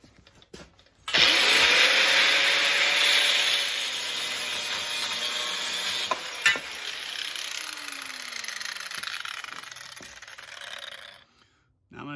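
A power tool cuts through threaded rod, with a sustained loud high-pitched grinding whine starting abruptly, running about ten seconds with a slowly dropping motor pitch before stopping.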